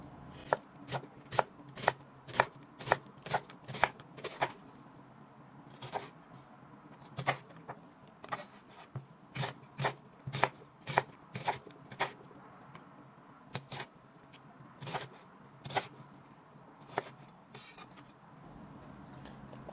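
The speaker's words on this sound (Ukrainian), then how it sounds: "Нарізаю її півкільцями." Rapid, repeated knife chops on a cutting board slicing an onion into half-rings, coming in quick bursts with short pauses, close and fairly crisp, with no voices.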